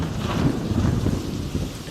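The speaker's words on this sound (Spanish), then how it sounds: "De repente, un trueno hizo estremecer el horizonte." A deep thunderclap rumbles through a stormy downpour, a heavy low roll sustained over rain hiss, loud and close with no voices.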